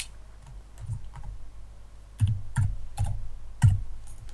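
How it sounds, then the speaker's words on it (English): A few separate keystrokes on a computer keyboard as a file name is typed, close and clear, in short irregular clusters with brief pauses between them. "I'll just type"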